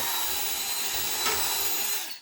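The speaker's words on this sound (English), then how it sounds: "Take the drill" A power drill runs steadily, boring a hole in wood for an archery target stand: a continuous, fairly loud whirring grind lasting about two seconds before spinning down, with no talking.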